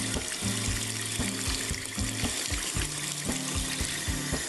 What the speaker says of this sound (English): Always use warm to hot water and thoroughly rinse your hands.